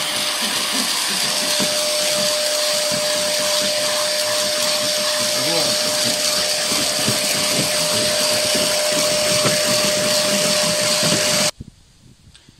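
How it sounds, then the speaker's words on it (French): Vacuum cleaner running steadily on a car's carpet, a loud continuous whine with a constant tonal hum, close to the microphone, cutting off abruptly near the end. "Je vais d'abord mettre un coup d'aspirateur pour que vous vous rendiez compte."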